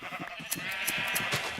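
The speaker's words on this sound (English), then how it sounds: "come over here and shear sheep." Sheep in the Minecraft video game bleat in a quick, wavering burst, loud and close, with no talk over it.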